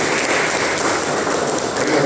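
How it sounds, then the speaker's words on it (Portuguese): A church youth service crowd claps together in steady, dense applause, loud and continuous throughout the short stretch. "dá uma salva de palmas para Jesus"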